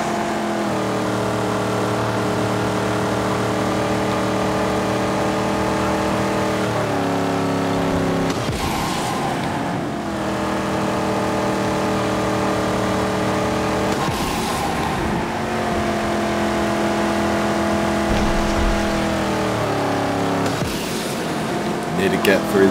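A car drives through a desert wasteland in the Mad Max video game, its engine a steady loud drone that shifts pitch with gear changes and revs over a long stretch, with occasional thumps, under a narrating voice.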